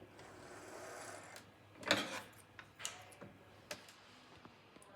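A sewing machine stitching a buttonhole ticks and clatters quietly in an uneven mechanical rhythm, with a few sharper clicks standing out from the soft running hum.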